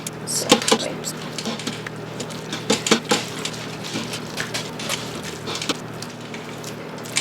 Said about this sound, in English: we're going to put our cream cheese, and we're just gonna mix that all together